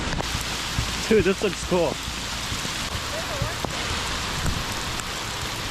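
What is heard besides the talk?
heavy rain downpour at a lake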